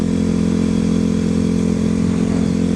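A motorcycle runs steadily at close range, its engine a constant loud drone with faint clatter as the front tire bounces, no one speaking.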